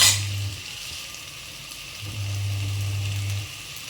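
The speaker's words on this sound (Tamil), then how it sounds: "இப்போவும் கொஞ்சம் உப்பு போட்டு வதக்கிக்கோங்க" Chopped tomatoes with salt sauté in a pan for paneer biryani, a soft, steady sizzle that continues throughout beneath a low electrical hum that drops out briefly and then returns.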